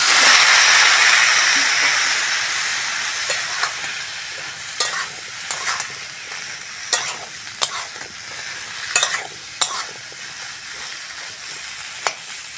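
Sliced bitter gourd goes into a pan where fish roe is already frying, and a loud hissing sizzle rises before slowly settling. A spatula clinks and scrapes against the pan in sharp, irregular knocks.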